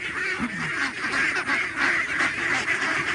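Free-range ducks call loudly at feeding time, a continuous overlapping chorus of nasal quacks and honks close by, with no pauses across the few seconds.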